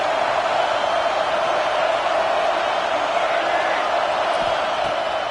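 A football stadium crowd roars in a steady, sustained wash of cheering noise, loud and continuous throughout.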